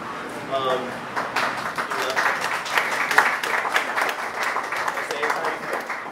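Audience clapping during an urban male panel discussion, a moderate, uneven patter of hands mixed with voices talking over it throughout.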